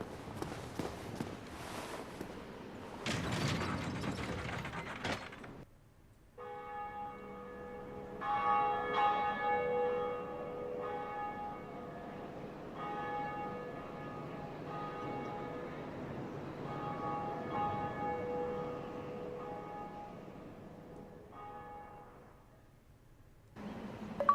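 A bell ringing in the PC video game Dark Souls: Prepare to Die Edition, after some rustling and footsteps, then long, sustained ringing tones that layer and hang for many seconds before fading out.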